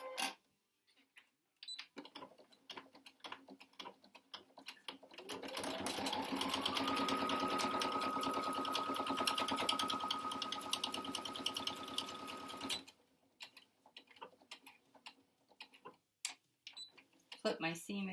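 A sewing machine stitches a seam on a fabric filter-pocket mask. It whirs up to speed and holds a steady whine for about seven seconds, then stops, with quiet handling noises and some talk before and after.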